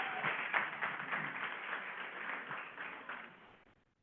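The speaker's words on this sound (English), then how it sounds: "please give John and Autumn a round of applause" A conference audience applauds presenters, the clapping steady for a few seconds, then thinning and fading out, heard faintly and through a narrow, muffled pickup.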